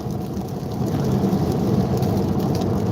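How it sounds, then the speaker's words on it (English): Heavy outdoor rain pours down steadily, a dense continuous roar of drops on the ground with a low rumble underneath, growing slightly louder after the first second and no talking. "I can do a walk around in the rain, but I don't want to get my camera wet"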